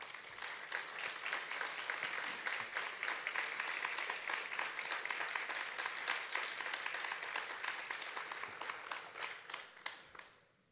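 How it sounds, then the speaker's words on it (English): Dense, sustained applause from a large audience of faculty and staff at a university service awards ceremony, even and full for about ten seconds before tapering off quickly. "So please give yourselves a round of applause."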